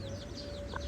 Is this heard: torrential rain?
no